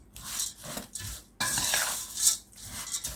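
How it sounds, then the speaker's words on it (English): A spoon scrapes and clinks around a bowl as oats are mixed into cookie dough, giving rhythmic close stirring strokes with a few sharper taps. "back with our spoon, mix the oats in"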